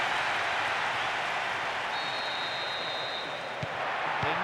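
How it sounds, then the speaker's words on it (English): A stadium crowd in a Winning Eleven football match between Lyon and Barcelona roars after an equaliser. The dense, steady wash of cheering holds level throughout, with a brief thin whistle-like tone partway through and no voices on top. "That's strike has just brought so much excitement and cheering."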